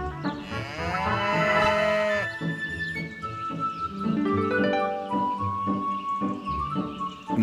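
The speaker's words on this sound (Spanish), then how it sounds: "¡Una vaca con manchas negras!" A black-spotted dairy cow moos loudly and at length, then gives shorter lowing calls, set against busy background sound in a children's farm cartoon about milking.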